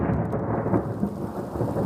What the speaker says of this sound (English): Another crash of thunder